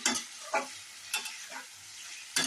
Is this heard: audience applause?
no